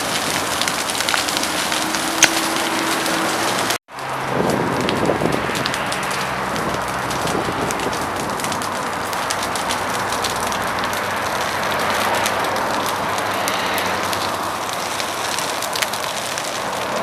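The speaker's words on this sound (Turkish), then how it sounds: "Gördüğünüz gibi alevler artık yola kadar taşmaya başladı." A roadside fire burns through trees and dry leaves with a continuous crackling roar, the sound close and loud, joined by gusty wind noise on the microphone.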